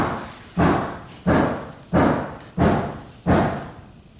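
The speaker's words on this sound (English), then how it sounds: "All that banging. That's my carpenters are working remodeling." Carpenters remodeling a building bang repeatedly: five heavy, evenly spaced thuds about two-thirds of a second apart, each loud and close with a short decay.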